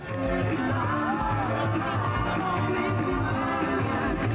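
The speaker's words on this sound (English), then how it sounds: "Hundreds danced and marched in Santiago to commemorate equal marriage rights for same-sex couples" A Pride march in Santiago celebrating equal marriage rights, with hundreds of people dancing and marching: a dense crowd roar with music and a steady beat, loud and continuous, cheering and voices blended throughout.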